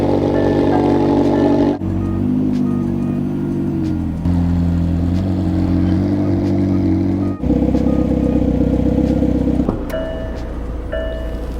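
A McLaren 720S sports car drives on winter roads, its engine a loud, close drone that climbs in pitch through several gear changes, with brief dips between shifts and no talking.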